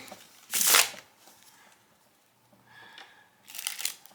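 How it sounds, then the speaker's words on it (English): Two quick riffling bursts of playing cards being shuffled, separated by a quieter pause with faint handling noises. "And then I'm going to give him a shuffle."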